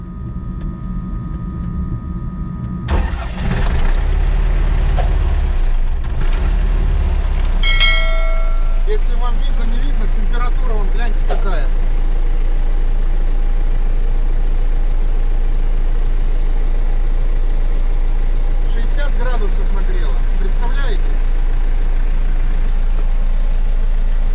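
LTZ-55A tractor engine cranking and starting in winter cold, with a burst of crank noise giving way to a steady low diesel idle that rumbles on throughout, close and loud, with faint voices at times.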